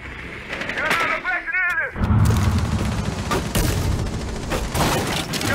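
Gunfire in Rainbow Six Siege on the Outback map: loud bursts of rapid shots cracking close by, mixed with bright game effects, and players talking over the shooting.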